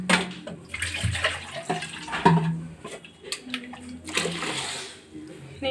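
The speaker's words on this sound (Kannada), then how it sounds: "ಅದೇ ಮಿಕ್ಸಿ ಜಾರಿಗೆ ಸ್ವಲ್ಪ ನೀರು ಹಾಕ್ಬಿಟ್ಟು ಹಾಕೋತಾ ಇದ್ದೀನಿ." Water splashes into a mixer-grinder jar of ground masala for a Mangalore-style fish curry, in uneven gushes and trickles over about five seconds while a voice talks over it.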